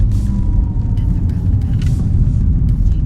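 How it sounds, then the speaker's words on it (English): A Porsche Taycan electric car surges forward with a deep, steady rumble close by and a faint electric whine riding over it, on city streets in Kuala Lumpur. "That sound as it surges forward is quite entertaining."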